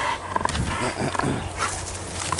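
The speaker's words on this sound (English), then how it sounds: "my kid's out here playing with the dog here" A dog plays outdoors with a child, giving a few short barks and yelps over a steady bed of outdoor noise and wind.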